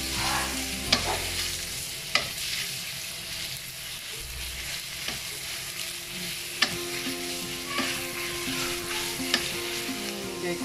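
Bacon sizzles in butter in a pan for carbonara, a steady frying hiss with occasional sharp utensil clicks and stirring scrapes, close and alone without talk.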